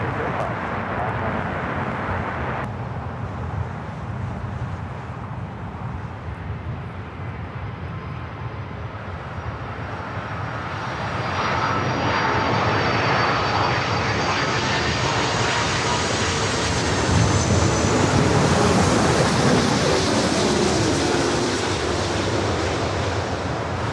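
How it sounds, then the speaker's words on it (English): An Ita Airways A330-200 jet in special livery takes off from the north side at LAX, a loud, building engine roar and rushing thrust that swells past the midpoint and holds steady, with faint radio talk early on. "A330-200, the Born to Be Sustainable. On special livery with Ita heading up for a north side to takeoff."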